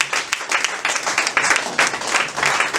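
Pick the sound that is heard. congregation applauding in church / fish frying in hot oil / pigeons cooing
congregation applauding in church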